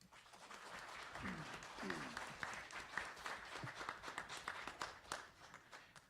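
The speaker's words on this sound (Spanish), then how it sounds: "Recibámoslos, por favor, con un aplauso" An audience at a book presentation on the crime of aggression in international law gives steady applause throughout, a dense patter of many hands at moderate volume with faint voices beneath.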